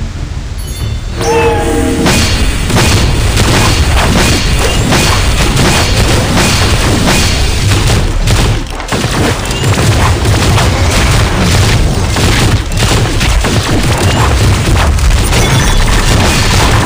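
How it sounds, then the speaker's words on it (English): A loud, sustained rumbling explosion in the video game Dragon Raja, dense booming noise filling the whole stretch with a brief dip partway through and no talk. "That was some explosion."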